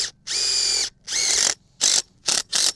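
Cordless drill driving a self-tapping screw into a metal high tunnel frame, a close whining motor in five bursts, two longer runs followed by three short pulses, with silence between.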